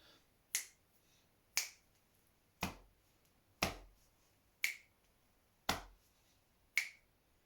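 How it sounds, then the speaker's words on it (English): Finger clicks and chest taps in a steady, evenly spaced rhythm, seven sharp percussive hits about one second apart, close and clear with near silence between them, part of a string-players' musicianship warm-up. "I'm going to start with a little bit of clicking and tapping our chests"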